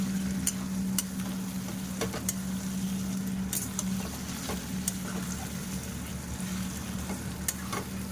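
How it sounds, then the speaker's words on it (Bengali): Chopped tomatoes sauté with mutton masala in a pan, a steady sizzling fry broken by regular sharp scrapes and knocks of a stirring spatula, close and continuous. "দিয়ে এর সঙ্গে ভালো করে টমেটোটাকেও কষিয়ে নেবো"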